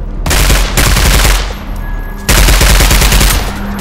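Loud automatic gunfire from a weapon in the Roblox zombie game, rapid repeated shots in two long bursts separated by a short pause.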